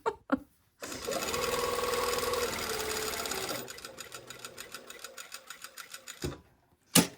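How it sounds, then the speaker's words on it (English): A sewing machine runs steadily for a few seconds while top stitching a collar, then slows into a string of distinct stitch ticks before stopping, with quiet clicks and handling before and after. "So technically we are top stitching now."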